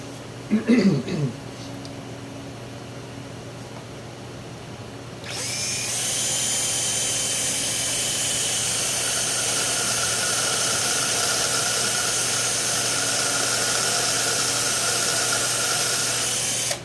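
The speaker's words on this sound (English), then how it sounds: "now I'm going to spot drill these guys" A lathe spot drills bolt holes in cast iron: a short burst of mechanical clatter, then a steady high whirring and grinding of the cutting tool that carries on evenly to the end.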